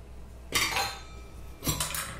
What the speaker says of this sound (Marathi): कुकर उघडून बघूयात